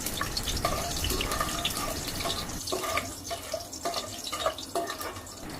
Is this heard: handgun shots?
no